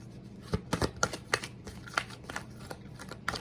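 Angel oracle cards being shuffled by hand, a run of soft, papery riffling bursts in an uneven rhythm, close and fairly quiet, with no voices.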